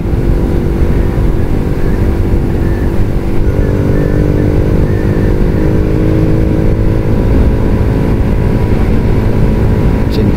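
Motorcycle ridden at top speed on an open road, a steady loud engine drone with strong wind roar buffeting throughout, continuous with no breaks.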